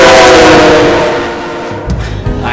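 Train on the Burlington Northern Santa Fe tracks at a small whistle stop in Victorville, California, a loud sustained horn blast that fades away, leaving rumbling rail noise.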